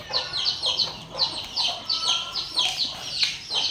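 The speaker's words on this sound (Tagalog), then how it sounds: "Dami-dami ka ng sisiw mga kabakerd." Chickens and chicks cluck repeatedly in a backyard coop, close and lively, overlapping calls in an irregular rhythm with no talk.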